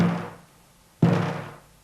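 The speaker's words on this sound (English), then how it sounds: "When I hit this drum gently, the vibration is very small." A drum is struck gently, giving a soft, muffled thud that decays quickly. It is played twice, about a second apart, with nothing else heard.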